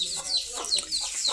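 Backyard chickens cluck close by in a quick, uneven series of short, bright calls over a couple of seconds.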